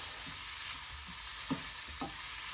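Ribeye fajita mix heats in a pan with olive oil, giving a soft, continuous sizzle with a couple of faint stirring scrapes and no talking.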